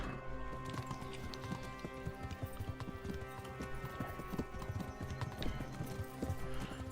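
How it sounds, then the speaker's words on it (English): Horse hooves clip-clop in a steady rhythmic trot in the video game Kingdom Come: Deliverance, fairly close, over a faint background hum, continuing without pause. "Your horse is too goddamn slow, Hunt."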